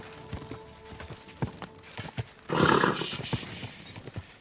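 Horse hooves clop in a steady uneven rhythm, with a burst of louder neighing or snorting midway, in Kingdom Come: Deliverance II during a castle siege, with no speech.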